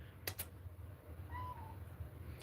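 A house cat gives a single short, soft meow indoors, faint and somewhat distant over a low room hum, preceded by a couple of brief clicks.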